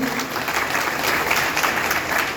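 A crowd at a village welcome ceremony in Ganeshpur, India, applauds in a loud, continuous patter of many hands clapping, steady from start to finish.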